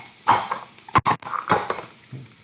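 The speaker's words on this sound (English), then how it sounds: "I'm going to add my salami, Italian salami." Italian salami goes into a frying pan already holding onion and pepper for a frittata: a few sharp, close clattering knocks of pan and utensil with a softer scrape between them, and no talking.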